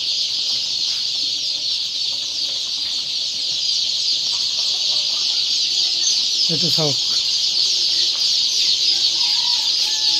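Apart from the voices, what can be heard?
chicks and ducklings chirping for sale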